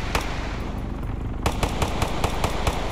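Rapid gunfire in the video game Arma 3 during a shootout at a racetrack, loud close shots fired in quick irregular bursts over a dense rumbling background.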